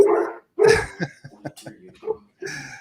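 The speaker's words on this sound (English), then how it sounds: "the bug man is here, and so the dogs are going nuts" Dogs bark at a visitor who has come to the house, a few short, sharp barks scattered around and between people talking nearby.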